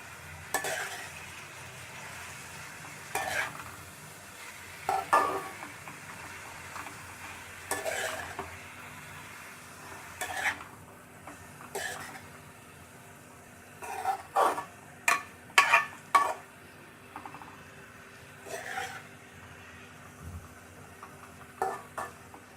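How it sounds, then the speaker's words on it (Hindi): Okra with coriander and turmeric powder is stirred in a pan, quiet sizzling underneath repeated bursts of spoon scraping and clanks against the metal, irregular and close, with no voices. "अब इसे अच्छे से मिक्स करेंगे और दम पे लगा देंगे"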